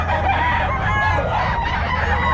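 A sweater gold gray gamefowl rooster at the Bulacan pet market crows loudly and close up, one sustained call that fills the moment without talk.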